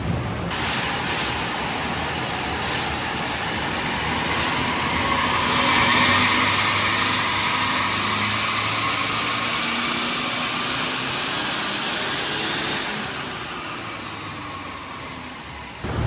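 Toyota Hiace with a 1GD diesel engine and G300 turbo runs steadily throughout, a loud continuous broadband roar with a faint low hum, easing slightly toward the end.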